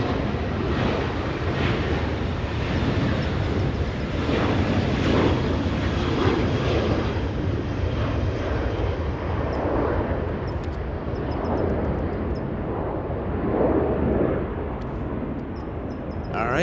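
A Southwest Boeing 737 jet taking off at LAX, a loud, continuous broadband engine roar that holds steady throughout, heard from a distance without a break.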